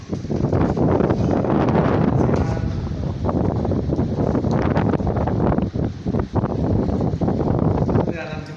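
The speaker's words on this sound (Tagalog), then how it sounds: "malakas po yung hangin sa labas." Strong wind blows outside during stormy weather, roaring into the microphone with loud, continuous gusts and rustling. Voices are faintly mixed in.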